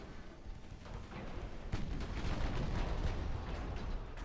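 Warship guns firing armor-piercing shells in the naval game Ultimate Admiral Dreadnoughts, a dense, rolling barrage of deep booms that thickens into continuous loud rumbling, with no talk over it.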